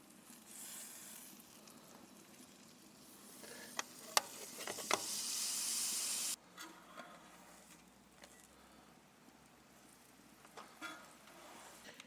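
Pop biscuit cinnamon rolls sizzle on a flat iron griddle, giving a quiet steady frying hiss with a few scraping clicks. A louder burst of sizzle comes mid-way, then it settles back to a soft crackle.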